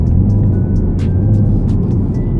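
A 2017 Chevrolet Camaro SS in Hyper Blue with its 450 hp V8 holds a steady, deep idle rumble, close and even throughout with no revs.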